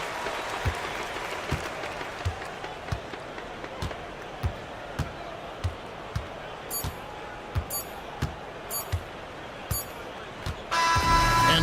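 A home crowd in a Euroleague basketball video game applauds and roars steadily throughout, with regular thuds of a dribbled ball cutting through the cheering.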